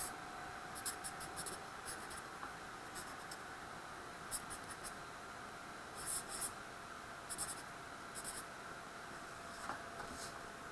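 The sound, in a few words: drawing an endothermic energy diagram on a board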